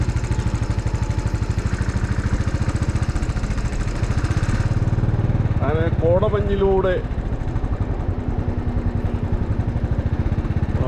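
Motorcycle ridden through mist near Kodaikanal, a steady low engine drone running throughout while someone talks over it.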